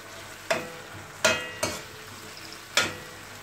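A spoon stirs an eggplant dish with tamarind in a sizzling pan, giving four sharp, close scraping knocks at irregular intervals over a soft frying hiss.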